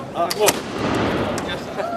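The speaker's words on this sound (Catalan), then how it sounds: "Perquè sento el tret allà." A sharp, loud musket gunshot cracks out near the start at a 1714 siege reenactment in Caldes, followed by a rolling echo that fades, with brief voices chattering in the background.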